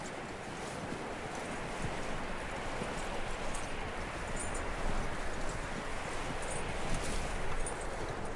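Horse hooves clip-clopping in the Red Dead Redemption video game, a steady run of close hoof beats over a constant rustling, windy outdoor wash, with no talk.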